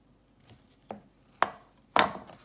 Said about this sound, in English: She's cutting her avocado.